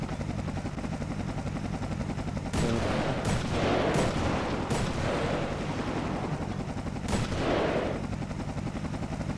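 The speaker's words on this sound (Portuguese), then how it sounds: "a gente tá dando tiro na moita aí pra ver se visualiza" Police gunfire fired into a bush during an operation, heard as several loud, sharp shots spread across a few seconds, with a steady rotor-like drone running underneath throughout.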